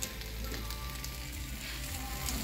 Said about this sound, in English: So, they're sizzling away nicely.